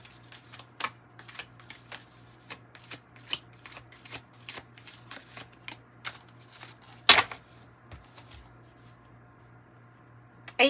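Tarot cards shuffled in a quiet room for a reading, a steady run of crisp, close riffling snaps with a brief louder clack near the middle, no talking.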